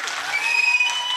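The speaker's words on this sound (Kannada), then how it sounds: "ಅಂತಿಮವಾಗಿ ನನಗೊಂದ್ಸಲ ಚಪ್ಪಾಳೆ ಹೊಡೆದ್ಬಿಡಿ" An audience at a small ceremony breaks into a short burst of steady clapping, moderately loud and close, with no voices over it.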